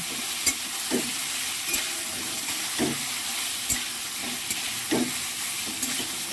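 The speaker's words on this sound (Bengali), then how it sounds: "এবার তেল গরম হয়ে গেছে সর্ষের তেলের মধ্যে আমি সোয়াবিনের বড়িগুলো দিয়ে দিলাম" Soybean chunks fry in hot mustard oil, a continuous bright sizzle with periodic spatula stirs and soft scrapes against the pan every second or so, close up with no talking.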